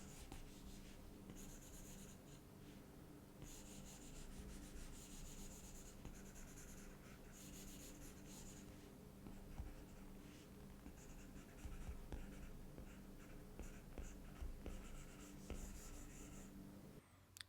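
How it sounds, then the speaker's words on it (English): Stylus sketching on an iPad fitted with a PaperLike 2.1 paper-feel screen protector, a steady scratchy pencil-on-paper rub with rhythmic strokes and brief pauses, close and fairly quiet, no talking. "you get that same therapeutic sound you get from sketching on real paper, but now you can do it on your iPad screen"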